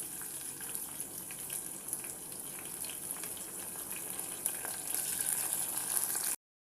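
Onions and tomatoes fry in a pan with a steady, soft, even hiss that continues without a break and swells slightly toward the end.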